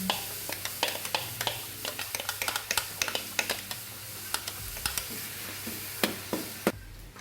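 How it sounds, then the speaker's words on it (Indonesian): Garlic and shallots sauté in about four tablespoons of vegetable oil in a wok, a close, steady sizzle broken by frequent sharp clicks and scrapes of a spatula stirring the pan. "ini kita tumis bawang putih dan bawang merahnya sampai wangi"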